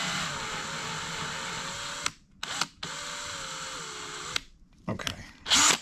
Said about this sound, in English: just take this drill and just open up this hole a little bit more